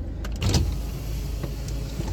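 A car creeps slowly over a rocky, potholed dirt road, with a steady low engine and tyre rumble and a brief jolt of rattling near the start.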